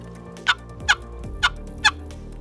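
Four short, sharp turkey clucks from a box call, evenly spaced and distinct, with quiet pauses between each pop.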